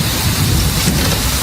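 Heavy rain pours down on a street, a dense, loud, continuous wash of drops with a low thunder rumble underneath, in a dramatic storm effect with no voices.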